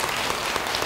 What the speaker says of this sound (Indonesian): Yang setuju beri tepuk tangan bagi dia